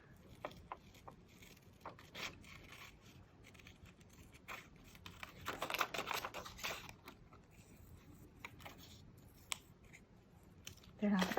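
Scissors snip through paper for an animal corner bookmark in a quiet room, with scattered faint cuts and a denser run of snipping midway, recorded softly and close.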